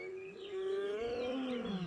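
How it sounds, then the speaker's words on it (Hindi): A lion roars at night in the Masai Mara, a deep drawn-out groaning call rising and swelling over about two seconds, fairly close with no voices. "मसाई मारा में रात को आपको लायंस की आवाज आती है।"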